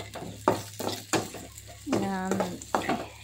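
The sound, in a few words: vegetables frying in a pan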